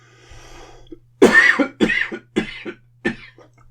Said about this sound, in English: It's obviously the time of the day where I start coughing.